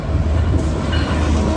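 A train rolls along a railway main line beside a stranded, damaged FRA car, a loud, close, steady rumble with dense wheel clatter filling the short stretch without a break.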